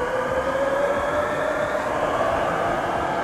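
A French train pulls out of a station in the Transport Fever 2 video game, a steady loud rolling rumble with a faint whine over it, no talk.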